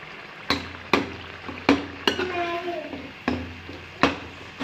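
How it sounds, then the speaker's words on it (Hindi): Chicken pieces frying and being stirred in a spiced masala in a home kitchen pan, with sharp repeated stirring scrapes and clatters over a steady close sizzle. "चिकन डाल के भी भूनेंगे हम अच्छी तरह से।"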